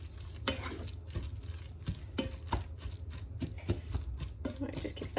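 Vegetables for a lentil bolognese, with garlic, fry in a pan as a steady sizzle, broken by repeated scraping strokes of a spoon stirring them around, close and fairly loud throughout.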